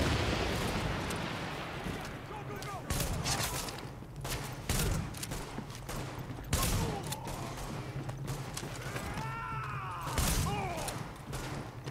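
Shotgun blasts in The Division, a rapid run of loud booming shots in bursts over a continuous game background, with a player's voice talking at times.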